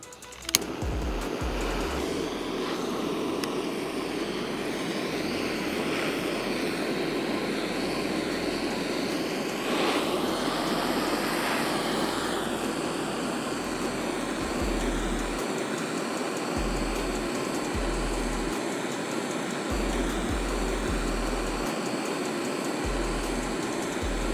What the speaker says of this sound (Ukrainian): Зараз ми взяли просто пальник, ми будемо гріти. Камеру, да, палити її